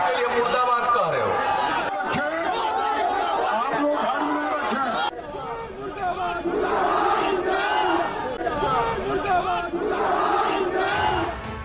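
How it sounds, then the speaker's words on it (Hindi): A large crowd at a Nitish Kumar rally in Bihar loudly shouts protest slogans, a dense roar of chanting voices and shouting that rises and falls in waves throughout. "लोगों ने विरोध में जमकर हंगामा किया। नीतीश कुमार मुर्दाबाद के नारे लगाए।"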